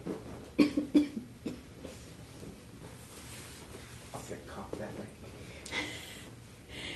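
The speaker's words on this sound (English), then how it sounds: "I'm like coughing inward." Someone coughs in a few sharp bursts early on, then more muffled coughs and throat noises follow, close to the microphone in an indoor room, with no talk.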